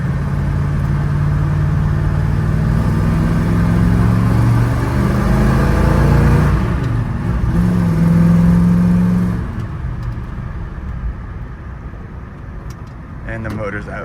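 Car engine revving hard during a short test drive, a loud sustained drone with rising and falling pitch, close by, then dropping to a lower idle near the end; voices talk over it.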